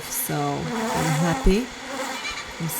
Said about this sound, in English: The noise you can hear, they're buzzing around my mic.